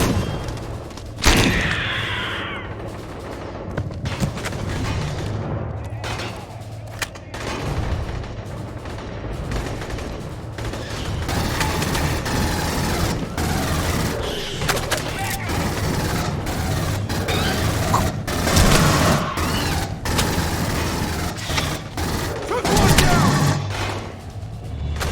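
Sustained gunfire rattles through the Aliens: Colonial Marines video game, with rapid bursts, sharp single shots and heavy booms repeating over a rumbling backdrop, loud and close throughout.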